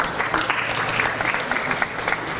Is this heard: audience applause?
yes